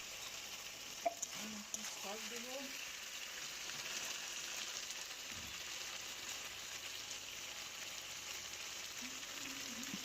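Chicken kosha sautés in a pan with ginger, garlic, chilli, coriander and cumin, giving a faint, even sizzle with a few soft stirring knocks and brief bits of voice.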